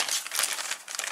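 A plastic parcel bag crinkles and rustles close by in quick, irregular crackles over about a second, with no speech.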